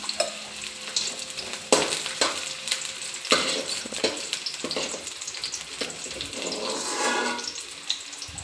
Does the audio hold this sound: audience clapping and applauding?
no